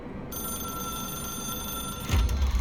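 A telephone in the video game Control rings steadily with a bright, continuous electronic tone, then a low thump and rumble come in near the end.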